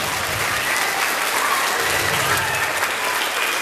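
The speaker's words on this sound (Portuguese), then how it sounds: "nós vamos fazer uma salva de palmas em homenagem ao Centro Educacional" A school assembly audience applauds in honour of Centro Educacional João Monlevade on its 51st anniversary, a continuous dense wash of clapping from a crowd, loud and even throughout.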